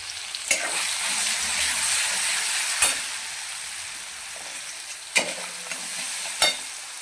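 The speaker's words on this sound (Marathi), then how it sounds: "तर बघा तेल गरम झालेले आहे याच्यामध्ये जिरा मोहरी टाकून देऊया त्यानंतर बारीक केलेली मिरची मस्त मिरची फ्राय करून घेऊया" Green chillies with cumin and mustard seeds frying in hot oil for tamarind chutney, giving a steady close sizzle broken by a few sharp spatula knocks and stirs, with no talking.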